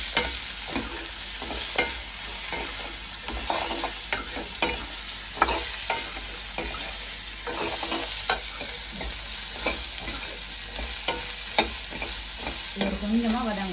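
Cucumber being sautéed in oil with onion and green chili in an outdoor garden kitchen, a continuous close sizzle with frequent scraping stir strokes running throughout, no voices over it.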